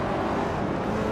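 Race cars in a racing video game, among them a 2015 Porsche 911 GT3 on pole, roar together at the start of a race at Aviano GP, giving a brief, loud, steady blur of engine noise.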